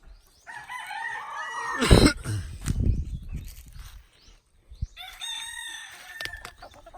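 A rooster crows nearby, then crows again a few seconds later, with thumps and shuffling noises in between.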